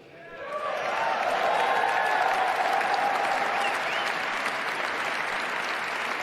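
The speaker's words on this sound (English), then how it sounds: "No applaud from the Clintons, no applaud from Biden, no applaud from Kamala." A crowd at the 2025 US presidential inauguration of Donald Trump applauds steadily and loudly, clapping swelling quickly and holding for several seconds with a faint murmur of voices underneath.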